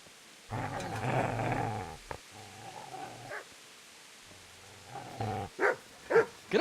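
A dog in the medieval game Kingdom Come Deliverance gives a long, low growl, then shorter growls, ending in a quick run of three or four loud barks, with no talking.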